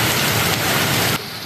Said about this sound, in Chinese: 受风面影响，桃园直至暗时落大雨